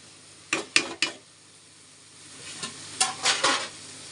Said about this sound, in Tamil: தக்காளி நல்லா வதக்கியாச்சு